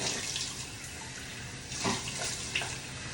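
Tap water runs steadily into a bathroom sink during a night-time face wash, a close, continuous broadband hiss and splash with a few brief louder splashes partway through, and no voices.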